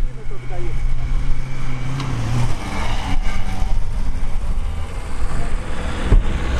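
A 4x4 car powers hard into sand and bogs down, its engine droning loudly and steadily up close with revving surges, while people talk nearby.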